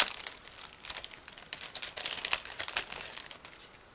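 Small clear plastic bag from a 1/35 scale model armored car kit being handled and opened, giving close, irregular bursts of crisp crinkling that come and go in quick rustles.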